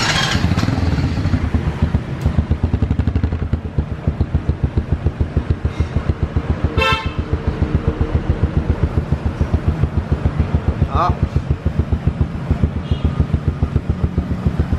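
A Honda Dream Thai motorcycle engine is started close by, catching after a brief crank and then settling into a fast, even idle putter that continues steadily for over ten seconds without talk.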